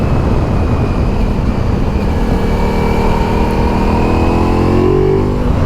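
Ducati Multistrada V4 S or Pikes Peak motorcycle under way on the road, its engine droning steadily and rising in pitch as it accelerates, loud and close, with wind rush throughout and no voices.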